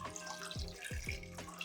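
Water runs and splashes steadily into a cooking pot for coconut milk rice, a soft continuous trickle with a few hollow glugs, fairly faint and with no voices.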